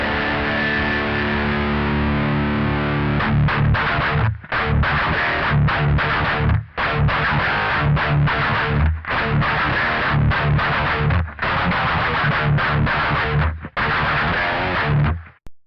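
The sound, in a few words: guitar through free amp simulator plugin, cranked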